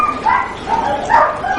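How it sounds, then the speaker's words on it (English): Greyhounds at a race track in England give off a few muffled, whining barks and yelps close by over a noisy background, with no speech. "These dogs are greyhounds"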